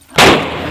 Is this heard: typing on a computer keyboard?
no